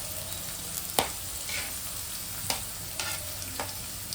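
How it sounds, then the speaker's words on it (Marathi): Chopped onion fries in a pan for prawn masala, giving a steady sizzle broken by several distinct scrapes and taps of a spoon. No voices are heard. "कांदा चांगला भाजून घ्यायचा."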